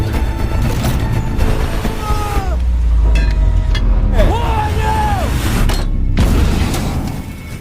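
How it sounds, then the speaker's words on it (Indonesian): A grenade explodes against a German tank in a Soviet tank battle scene from a war film. A loud, sustained boom and rumble fill the clip, with whistling tones sliding over heavy low-end noise. "Untungnya pasukan Ivushkin di luar tank berhasil melempar granat tepat mengenai tank Jerman."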